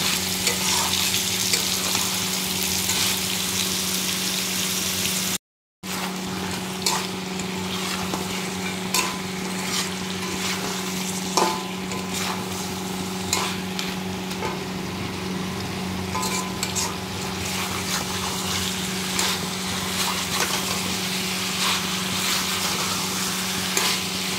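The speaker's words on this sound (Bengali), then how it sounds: "আর এখানে দেখো মাংসটা এখন ভালো করে কষিয়ে নিচ্ছি।" Meat sizzles and fries in a pan with ginger, garlic and chili paste while being stirred, a steady close crackle with occasional scraping stirs throughout and a brief dropout near the start.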